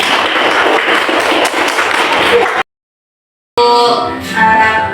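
Children in a primary school classroom clap their hands together in a dense, loud burst that cuts off abruptly, followed after a brief silence by more clapping mixed with young voices.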